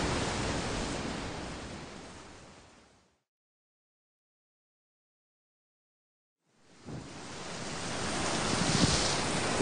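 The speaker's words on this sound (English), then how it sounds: "Look at those waves! They must be 6 metres high." Large ocean waves roar as heavy broadband surf and wind during a rough ferry crossing in bad weather, loud and close, fading out to a few seconds of silence before surging back.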